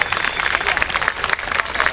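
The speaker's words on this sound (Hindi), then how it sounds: "इन सबके लिए जोरदार तालियां।" A crowd at a public event in Ajmal Khan Park claps steadily, a dense patter of many hands filling the whole stretch.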